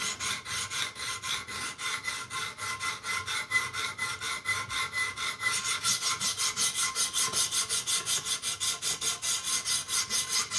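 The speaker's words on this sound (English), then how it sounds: "if you grind a certain amount on one side, you want to grind the same amount on the other side usually" A WWII pilot knife is ground on a TSPROF Pioneer sharpener in quick, even back-and-forth abrasive strokes, rasping and close, growing brighter and louder midway.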